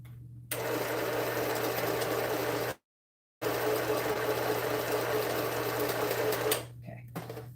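A sewing machine runs steadily as it re-sews a loose-stitched quilt seam, a close, continuous whirring hum that stops briefly mid-way, then resumes before fading at the end.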